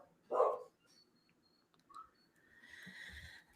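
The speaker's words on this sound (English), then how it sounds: "So my dog is mad about something." A dog gives one loud bark near the start, then a quieter short yelp or bark later, with faint indoor background hum between.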